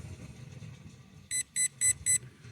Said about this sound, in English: It's going to beep 4 times because I have it set to the highest level